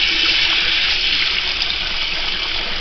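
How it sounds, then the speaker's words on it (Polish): Warm water runs steadily from a tap while dishes are washed up, a continuous close hiss of flowing water without pause. "od razu myjemy w ciepłej wodzie"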